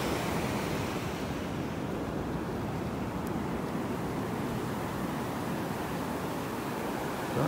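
Gulf waves wash ashore on a North Naples, Florida beach in a continuous, even rush of surf with light wind noise and no clear breaks.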